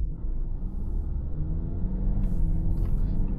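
2025 Audi A5 sedan in dynamic mode, heard from inside as a loud, steady low engine drone held at high revs, with road rumble and a little hiss over the top.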